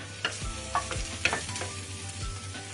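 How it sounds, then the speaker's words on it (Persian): Chopped white onion frying in a pan for a Greek-style pizza topping, a steady close sizzle broken by several scraping stirs of a utensil against the pan. "پیاز رو سرخ کنم"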